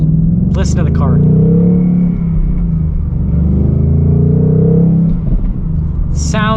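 A Ford Mustang Bullitt engine rumbles steadily with low revving swells, close and loud, while a voice talks briefly near the start and again at the end.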